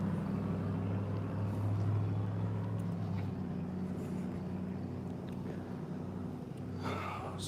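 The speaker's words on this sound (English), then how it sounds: "It's a loud black truck, probably gangstalker." A loud black truck pulls up nearby, its low engine rumble steady and continuous, with a brief hiss of air or movement near the end.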